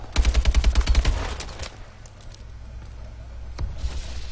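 AK rifle firing in the video game Advanced Warfare: a loud, rapid burst of close shots runs for over a second, then cuts to a quieter, steady game background.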